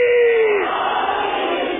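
Crowd at a Shia majlis gathering bursts into a loud collective shout answering the Naara-e-Haidari slogan, one sustained roar that starts strong and gradually eases off without trailing into silence.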